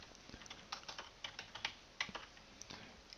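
Someone types on a computer keyboard with quick, irregular bursts of clicking keystrokes, quiet and close, with no talking.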